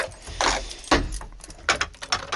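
Car keys jangle and clink in a few short metallic bursts, close by, with brief pauses between shakes.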